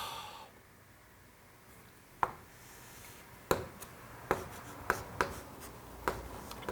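A pen writes lecture notes by hand on paper, with faint scratching followed by several distinct taps and strokes spaced a second or so apart, close and quiet against a soft room hush.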